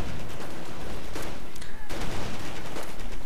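Machine gun fire in a Company of Heroes online 3v3 battle, with a dense, continuous crackle of overlapping gunfire that stays loud throughout and has a few sharper bursts mixed in.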